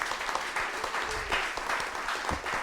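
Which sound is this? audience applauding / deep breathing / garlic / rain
audience applauding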